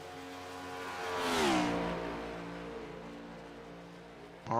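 Race cars circling Daytona International Speedway during qualifying in a racing video game, a steady engine drone that swells as a car passes near and fades back, with a pitch drop in the middle.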